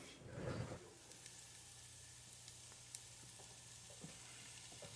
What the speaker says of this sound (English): We're going to put in about half of the onion, half of the peppers, and get them sauteing.